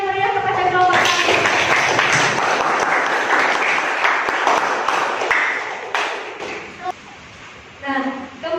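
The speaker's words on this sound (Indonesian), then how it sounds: "Beri tepuk tangan yang meriah kepada kelompok kami" Classroom applause from students, steady dense clapping for several seconds that fades toward the end, with voices rising briefly at the start and close.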